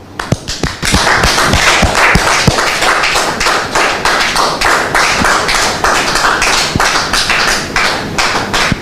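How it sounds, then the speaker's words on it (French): Loud, dense applause from a large audience, sustained throughout with sharp individual claps standing out, no voices. "Public, merci de le recevoir avec vos applaudissements"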